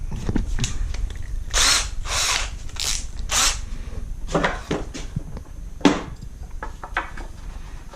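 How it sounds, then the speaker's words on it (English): A power drill whirs in several short bursts, pausing between each as pilot holes are bored into wood for a box joint jig, with light clatter and handling noises in between. "this time we'll actually pre-drill so that we don't split it all out"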